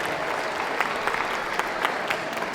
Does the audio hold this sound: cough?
no